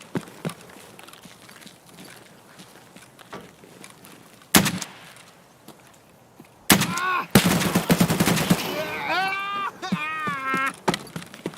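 Scattered gunshots in Escape from Tarkov, a few sharp isolated cracks, then a louder closer burst, under light talk and with wavering sung-like vocal sounds near the end.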